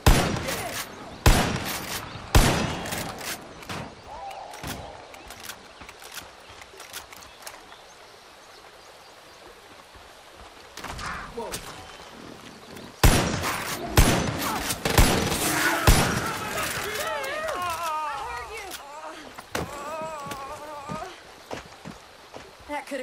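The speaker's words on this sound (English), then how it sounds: "Shoot a couple holes in his stuff, scare the shit out of him" Gunfire rings out in Far Cry 5 as shots hit a sewage tank, a series of sharp, loud bursts in clusters, mixed with horse hoof clip-clops and characters talking over the scene.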